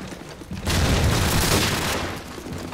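A dense burst of gunfire in Call of Duty: Modern Warfare during a team deathmatch, loud and close, lasting over a second against quieter game noise, with no voices.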